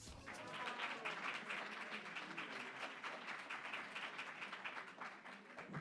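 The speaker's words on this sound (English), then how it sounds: "Let's give them another round of applause" Audience applause at a Black History Month reception, a fairly quiet, steady patter of many hands clapping for several seconds with a slight swell near the start and a fade at the end.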